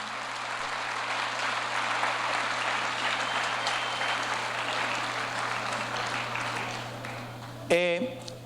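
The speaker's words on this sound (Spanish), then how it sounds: "un aplauso al Señor por él." Congregation applauding at a church pre-convention event, sustained even clapping for several seconds, ending with a brief burst of speech.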